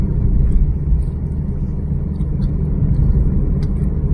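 A car driving at night through dense fog on the road from the airport to Gurgaon, heard from inside as a loud, steady low engine and road rumble with no break, faint higher ticks over it.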